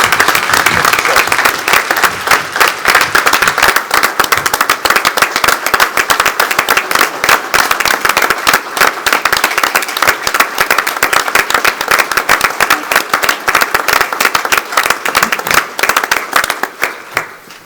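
A board meeting audience gives Captain Bill a round of applause: sustained, dense clapping from a room full of people, loud and steady for about seventeen seconds before tapering at the close.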